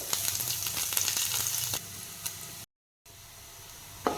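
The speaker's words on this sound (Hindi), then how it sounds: "अदा कंचा लंका रसुण टिके गोल्डन ब्राउन कलर हो आसलानी" Ginger, garlic and green chili sizzle and fry steadily in hot oil for an egg tadka, a close, continuous crackle with occasional pops, briefly cut out near the end before resuming.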